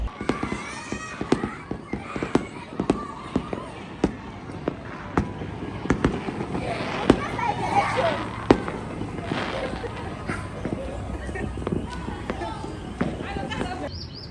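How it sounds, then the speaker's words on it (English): Fireworks seen from a rooftop pop and crackle steadily in sharp irregular bursts for the whole stretch, moderately loud, with voices talking underneath. "I'm literally on my rooftop right now to see the fireworks"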